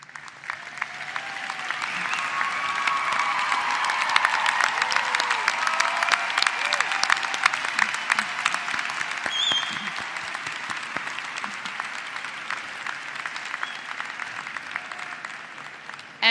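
Commencement audience at a college spring graduation claps steadily for several seconds, a broad rush of applause that swells and then gradually thins out, with a few scattered voices in the hall.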